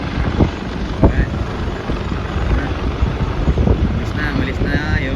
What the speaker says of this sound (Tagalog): Malis na yung helicopter. Rescue helicopter.